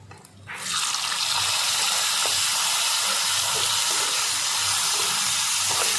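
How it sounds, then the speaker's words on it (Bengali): Cut potatoes hit hot oil with garlic and nigella seeds, setting off a sudden loud hiss that settles into a steady, dense sizzle, close up with no voices. "আলুগুলো একটুখানি ভালো করে লাল করে ভেজে নেব"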